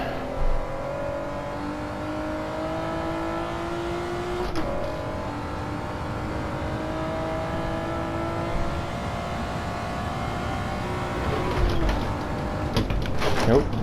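A car engine in Gran Turismo 7 drones and revs continuously through a four-wheel drift, its pitch rising and falling with the throttle, ending in a rough burst of louder mechanical noise.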